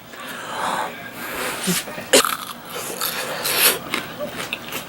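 Crisp crunching bites into a hot fried churro, a few sharp crackly snaps amid chewing and breathy sounds, close up.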